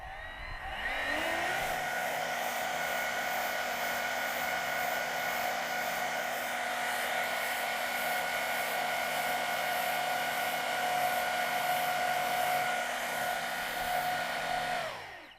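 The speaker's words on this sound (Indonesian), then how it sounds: "bisa saya lakukan adalah meniupkan udara melalui kipas dan kita seharusnya mendapatkan aliran asap yang keluar dari nozzle ini" An electric fan drives air through a nozzle in a drone-thrust test rig, starting up with a rising whine and settling into a loud steady whooshing roar with a constant tonal hum until it cuts off.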